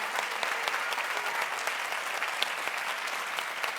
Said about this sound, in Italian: dobbiamo fare un applauso ancora più caloroso e clamoroso a tutti e 6 concorrenti